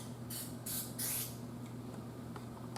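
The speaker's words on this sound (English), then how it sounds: "I wonder if I could spray it right in the tube." Easy Off oven cleaner hisses out of an aerosol can into a tube in three short bursts, close and fairly loud over a low steady hum, with no talk.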